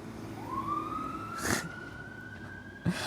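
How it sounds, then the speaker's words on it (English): An ambulance siren wails outdoors at a distance, a faint rising-and-holding tone under steady background noise, with a short thump near the end. "There's a nice ambulance or something outside."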